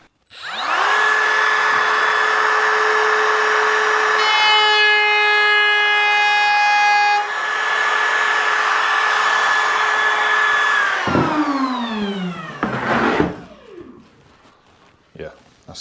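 A power tool trims a plywood shelf panel, its steady high whine running for about ten seconds with a pitch shift midway before spinning down, followed by brief knocks and handling noise.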